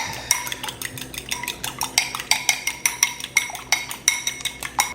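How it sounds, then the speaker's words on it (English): An egg whisked briskly in a bowl for a meat pie egg wash, rapid regular metallic taps of a fork or whisk against the bowl, close and clear, with no talk. "So I'm just going to crack the egg. whisk it."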